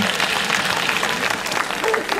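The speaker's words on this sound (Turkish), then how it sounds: "Kocaman alkışlar." Audience applause at a Circassian culture festival, a dense, loud wash of many hands clapping steadily throughout, with a crowd murmur and a voice faintly mixed in.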